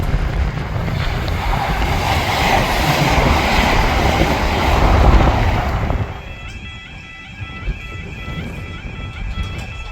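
A train rushes past at Thatcham station beside the level crossings, a loud close roar that drops away after about six seconds, leaving a quieter hum with a faint warbling tone.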